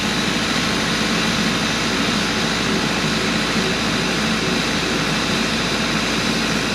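A farm irrigation pump engine runs at a steady drone, loud and close, with a constant low rumble and broadband noise and no change in pace throughout.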